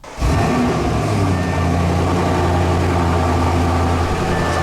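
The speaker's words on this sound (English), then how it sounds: "Even though I have a full straight pipe exhaust on this car, the cold starts aren't that brutal." An Audi RS7 engine idles with a loud, steady, raspy straight-pipe exhaust drone that holds constant throughout, with no voices.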